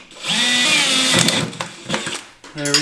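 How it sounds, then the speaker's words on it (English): A power drill whines steadily and then bites through a bumper bracket on a brand-new 2024 Ski-Doo Summit Gen 5 snowmobile, the pitch wavering under load, with someone talking over the close, loud drilling. "Nothing like drilling a brand new sled."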